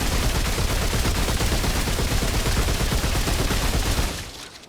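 A high-rate automatic gun in the shooter game Remnant 2 fires a dense, continuous stream of rapid shots for about four seconds, loud and close, then cuts off with a brief tail.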